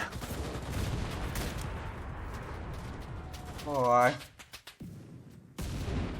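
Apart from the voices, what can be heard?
gunfire in the video game Enlisted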